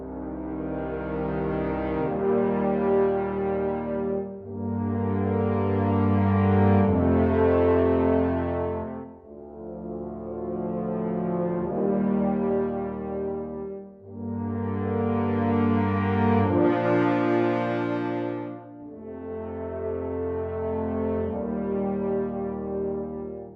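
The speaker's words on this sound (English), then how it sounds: "Now our swelling brass part is finished and sounds like this." Orchestral brass section of horns and trombones from Synchron Prime sample library, playing long swelling sustained chords in several rising and fading phrases, full and loud with no talking.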